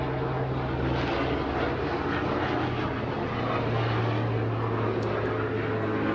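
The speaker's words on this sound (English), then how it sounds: "And hold for helicopter, please." Steady aircraft rotor and engine drone of a helicopter passing overhead, a continuous loud hum with a low tonal throb that holds evenly throughout, no voices over it.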